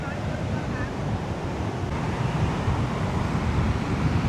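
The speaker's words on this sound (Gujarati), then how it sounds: "તો મિત્રો મોજા તો આ સુધી પૂગે આવે" Rough monsoon sea waves surge and break on a beach near a large seaside palace, and gusting wind roars across the microphone in a constant loud wash.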